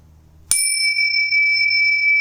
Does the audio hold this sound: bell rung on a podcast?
yes